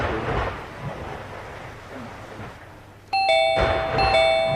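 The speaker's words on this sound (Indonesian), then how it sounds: "Jangan mainan bel." A doorbell rings once with a clear two-tone ding-dong chime in the second half, loud and close, after a stretch of low rumbling background in an indoor comedy scene.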